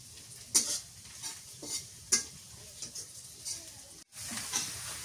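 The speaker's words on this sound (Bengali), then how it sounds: "পেঁয়াজটা লাল লাল করে ভাজে নেই, লাল লাল করে ভাজলে ফ্লেভারটা অনেক সুন্দর আসে।" Onions fry in a pan until reddish, a soft steady sizzle broken by sharp metal spoon scrapes and clinks as they are stirred, with a brief silent break near the end.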